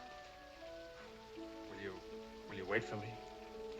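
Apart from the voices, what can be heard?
rain falling, in a 1954 film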